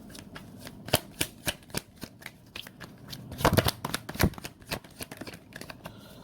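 Tarot cards being shuffled by hand, a rapid run of crisp riffling flicks and slaps, close and steady, with a denser flurry midway and no talking.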